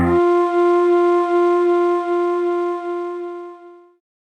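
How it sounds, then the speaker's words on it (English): Ensoniq TS-10 synthesizer hyperwave built from folk flute samples, sounding as a single sustained pitched tone with a bright attack that holds steadily and fades out after about four seconds, alone. "The Hyperwave now sounds like this."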